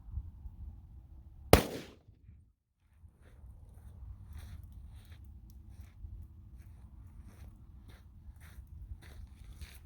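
A Glock 31 pistol fires a single .357 SIG 124-grain jacketed hollow point round into ballistics gel from 15 feet, one sharp loud crack followed by a brief ringing decay, then quiet outdoor background.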